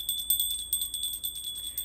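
A small altar bell is shaken rapidly, bright metallic rings repeating in a quick even rhythm for about two seconds, clear and close with no talking over it.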